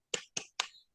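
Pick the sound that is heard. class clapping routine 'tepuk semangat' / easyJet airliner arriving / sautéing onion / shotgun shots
class clapping routine 'tepuk semangat'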